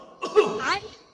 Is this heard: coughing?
yes